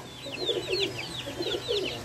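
Pigeons coo in a soft, repeated rhythm of rolling calls close to the microphone, with several overlapping phrases and no talking.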